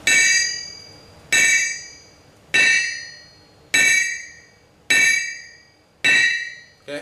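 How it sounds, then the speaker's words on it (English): A hammer dropped onto a blacksmith's anvil in a rebound test rings out six times at roughly one-second intervals, each bright metallic strike followed by a sustained ringing decay, loud and close. "we'll go ahead and do a quick bounce test"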